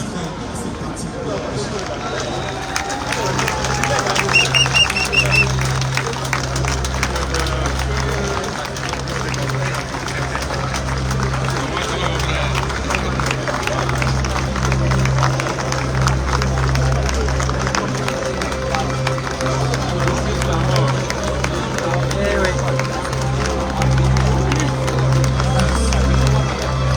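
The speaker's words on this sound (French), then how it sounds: "on applaudit pendant 1 minute pour célébrer la mémoire de ceux qui sont partis" Large crowd in Paris applauding for a minute to honour the dead, dense sustained clapping with crowd murmur and babble underneath, steady and loud throughout with a low hum in the background.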